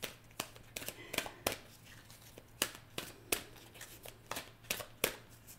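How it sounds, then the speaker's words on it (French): Tarot cards drawn and shuffled from a deck, a string of sharp papery flicks and slaps at an uneven pace, close and fairly quiet, with no voice over them. "J'ai dit sortir une carte, mais je peux en sortir deux."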